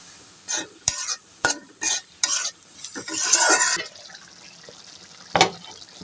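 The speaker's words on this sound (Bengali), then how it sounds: "যে আলুগুলো কেটে নিয়েছিলাম সেই আলুগুলো দিয়ে দিচ্ছি নেড়ে চেড়ে মশলার সাথে মিশিয়ে নিই" Cut potatoes stirred with spices in a hot pan: a run of sharp, close scraping strokes with a brief sizzling burst midway, then a lull and one last scrape, with no talking.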